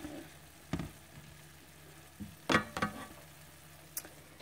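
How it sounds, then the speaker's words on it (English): Chopped vegetables sautéing in a pan with no seasonings, a soft steady sizzle underneath a few louder clacks and scrapes of stirring, nearby and without talk. "You want to saute these vegetables till they're nice and tender."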